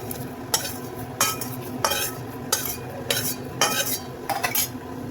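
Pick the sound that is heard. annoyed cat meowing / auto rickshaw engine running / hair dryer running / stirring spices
stirring spices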